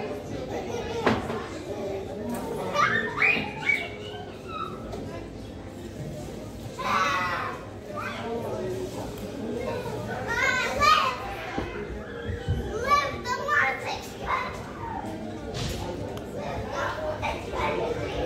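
Children play and chatter nearby, with overlapping kid voices, shouts and squeals rising and falling continuously, plus an occasional knock or thump in the background.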